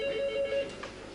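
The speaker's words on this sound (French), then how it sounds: "Carole lui apprend à répondre au téléphone façon Domino's." A telephone rings in a Domino's Pizza shop, a steady electronic tone held for about half a second, then fading into quiet room noise with a faint clunk.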